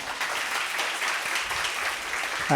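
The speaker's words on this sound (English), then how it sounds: "You can clap if you want." Audience applause at a live talk on global warming at Mindvalley HQ: dense, steady clapping from a room full of people, fairly loud and continuous throughout with no talk over it.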